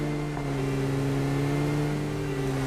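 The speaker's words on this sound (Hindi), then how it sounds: "फटाफट हम अपनी गाड़ी उठाते और भाई उस वाले कंपाउंड की तरफ रश कर देंगे" A vehicle in the battle royale game PUBG drives steadily with a continuous, mid-pitched engine drone and hum that holds at an even level throughout, with no talk over it.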